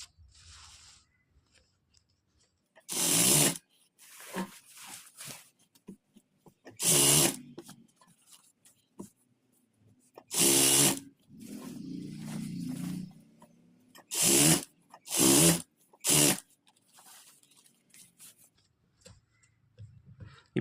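A sewing machine stitches a fall onto a saree in several short, loud bursts of whirring stitching separated by quiet pauses, with faint low handling sounds between runs.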